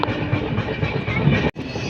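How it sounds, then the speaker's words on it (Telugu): A train passes close by on a railway journey from Hyderabad toward Tiruvannamalai, making a loud, continuous rumbling roar with rhythmic clatter and a brief cutout near the end. "ఒక ట్రైన్ అలా వెళ్తూ ఉంది"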